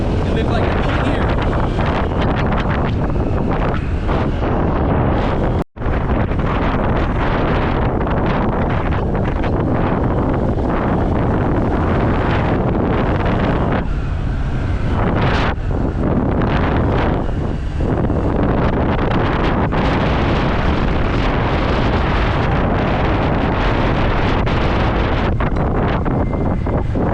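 Steady, loud wind buffeting a microphone while riding a motorbike downhill in Santa Monica, Palawan, Philippines, a continuous roar that barely lets up for the whole ride.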